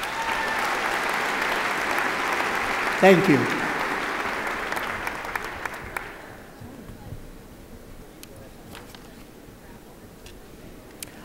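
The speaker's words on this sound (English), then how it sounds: "Please join me in applauding our associate degree candidates." A large audience at a December college commencement ceremony at Colorado Mesa University applauds the associate degree graduates, sustained clapping filling the hall for about six seconds, then fading to scattered claps and room murmur, with a brief spoken thanks.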